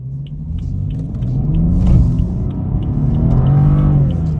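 A BMW 435i M Sport accelerates through heavy snow, its engine giving a loud, steady low rumble heard from inside the car that builds gradually with a rising revving tone. No one speaks.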